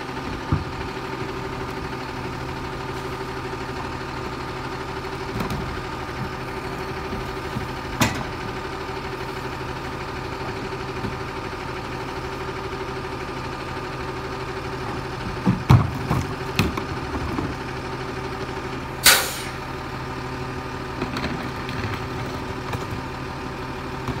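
A steady low garbage truck engine idle rumbles continuously, with a few brief clanks and knocks rising above the drone.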